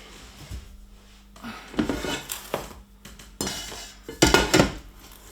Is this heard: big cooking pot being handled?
yes